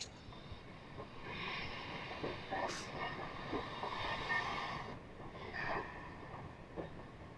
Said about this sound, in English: Here comes the train going by.